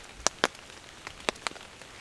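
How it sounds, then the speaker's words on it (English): Light rain easing off at a hammock camp, a few scattered drops tapping sharply on a surface, spaced irregularly and close by, over quiet background. "And the rain is just easing off now"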